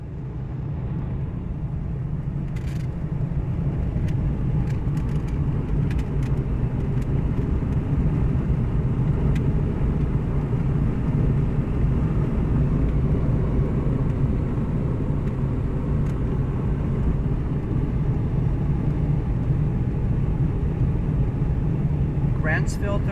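A car drives along an open road between Nevada and Utah, a constant low rumble of engine and tyres filling the cabin at steady loudness, with brief clicks near the start and a voice speaking over it.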